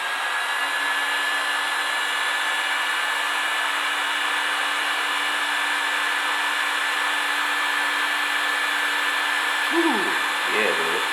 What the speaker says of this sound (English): Use a hot air gun to heat it up.